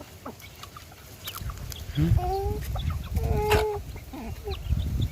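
Chickens cluck and squawk close by in a busy yard, with scattered calls and a few sharper cries over low background noise.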